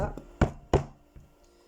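A tarot card deck being tapped during a reading: two sharp knocks close together, then a fainter tap, each short and dry, with quiet room tone between.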